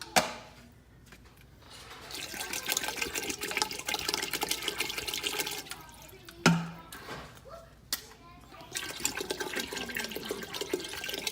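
Water pours into a pot of Native American corn soup in a continuous, soft splashing stream, fairly quiet, with a couple of louder clunks and splashes partway through.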